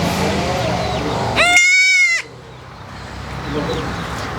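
A sheep on a farm gives one loud, close, quavering bleat lasting about a second, over steady background noise and faint murmuring voices.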